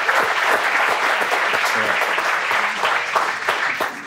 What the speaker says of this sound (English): So we should clap for Kobe.